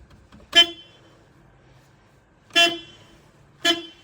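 A Smart Fortwo car horn honks three times, short sharp toots separated by quiet gaps, loud and close.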